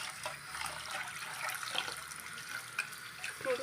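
Tap water runs steadily into a pot while flattened rice (avalakki) is washed in a home kitchen, giving a continuous close splashing hiss with small fluctuations.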